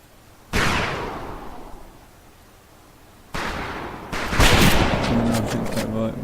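Rifle shots on a boot camp firing range in the World War II game Medal of Honor Pacific Assault: a single loud crack with a long decaying echo, then a rapid volley of overlapping shots, with a voice heard underneath.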